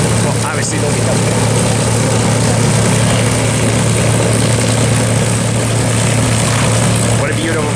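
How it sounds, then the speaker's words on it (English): Propeller drone of a P-51 Mustang fighter plane holds steady and loud throughout, a strong low hum with broadband roar, heard at a planespotting event; a voice is faintly audible beneath it. "What a beautiful fighter the P-51 is"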